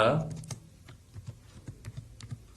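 Soft, irregular keystrokes on a computer keyboard while C++ code is typed, quiet and close, with a few faint clicks scattered through the short stretch.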